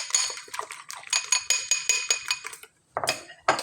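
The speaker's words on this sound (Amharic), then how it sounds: "በመምቻም ካላችሁ በመምቻም መምታት ትችላላችሁ።" A whisk clatters quickly against a bowl as a mixture is beaten by hand, with rapid rhythmic clinking strokes, a brief pause, then a few more strokes close by.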